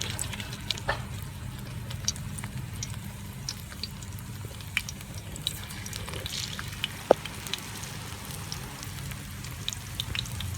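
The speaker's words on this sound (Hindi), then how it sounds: "इसको घी के अंदर डिप करेंगे इस तरीके से" Chapati pieces coated in gram flour fry in hot ghee, giving a steady, close sizzle and bubbling with scattered sharp pops and crackles throughout, without any talk.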